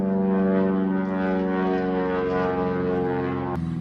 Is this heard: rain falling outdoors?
no